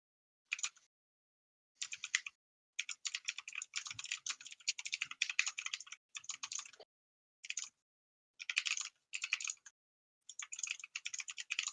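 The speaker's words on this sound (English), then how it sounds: "If you ever saw my keyboard, you'd understand why my keyboard's so fucking loud." Loud clattering computer keyboard typed fast in bursts separated by short pauses, sharp close keystrokes with a typewriter-like rattle, heard with no talk over it.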